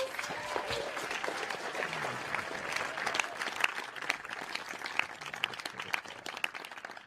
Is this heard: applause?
yes